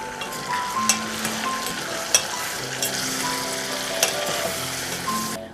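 Meat fries in a pan with a spice blend, a steady close sizzle broken by a few sharp clicks of stirring and scraping.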